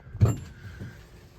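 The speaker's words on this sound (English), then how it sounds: "there goes the shower door" A glass shower door in a 1977 camper slides along its track with one quick thump and rattle, followed by a softer second knock, close and brief.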